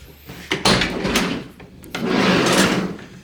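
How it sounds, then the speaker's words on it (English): Sliding side door of a Subaru Sambar kei van opened from the inside, giving a sharp latch clack followed by a longer rolling, rumbling slide along its track, close and loud with no talking. "We can open up the door just from the inside."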